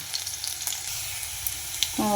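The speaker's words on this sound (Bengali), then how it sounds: "রসুনটা মোটামুটি ভাজা হয়ে এসছে" Garlic sizzling in a pan of hot oil, a continuous close crackle with light scrapes of a spatula and a brief clatter near the end.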